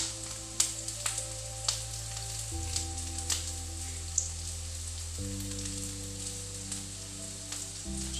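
Chicken ghee roast frying with curry leaves and onion in a pan: a steady, close sizzle with scattered sharp crackles and pops throughout, over a low background hum.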